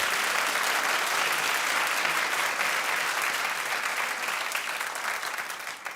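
Loud, dense applause from a talk show studio audience on The Wendy Williams Show, sustained and close throughout, easing slightly near the end with no voices on top.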